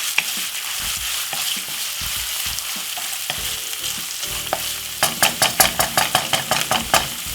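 A handful of saltfish sautéing in a hot frying pan, with a loud, close, continuous sizzle and stirring scrapes, ending in a quick run of rhythmic spatula knocks against the pan.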